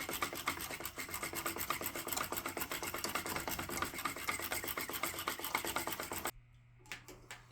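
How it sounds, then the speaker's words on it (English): Whole milk is whisked into an eggnog pudding mixture in a fast, continuous, close-up scraping rhythm that runs steadily, then stops abruptly near the end and leaves a few faint knocks. "Two cups of whole milk. Whisk it all together again."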